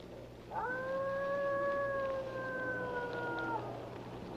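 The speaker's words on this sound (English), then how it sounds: "What's he howling for at this time of night?" A wolf howls at night, one long, clear, sustained tonal howl that rises, holds steady for about three seconds and fades, heard alone against a quiet outdoor background.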